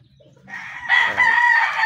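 Backyard chickens, including straight comb sweaters, crowing and clucking loudly and close, a rising call that swells after a half-second quiet start.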